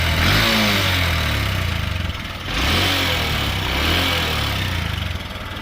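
A Honda CB125F engine with a repaired cylinder head runs close by, its low rumble rising and falling as it revs, with a brief dip midway before picking back up.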